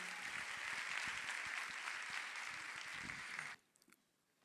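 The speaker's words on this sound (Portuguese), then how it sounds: "Eu quero convidá-lo, uma salva de palmas" Applause from an audience welcoming a guest lecturer to a Christian keynote lecture, a dense steady ovation that carries for about three and a half seconds, then stops abruptly, leaving a few faint stray claps.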